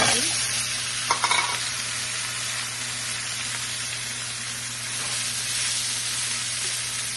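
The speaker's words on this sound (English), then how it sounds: "we're going to put the shrimp on in here, and we'll just start to cook it up really quick" Shrimp sizzle in a hot pan for a surf-and-turf dish, a steady, loud frying hiss with a couple of brief utensil clatters near the start.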